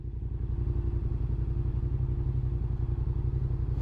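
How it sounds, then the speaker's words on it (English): Motorcycle engine held at a loud, steady throbbing rev close by, its low rhythmic pulse continuous throughout with no voices over it. "the biker gave them the honor of revving his engine"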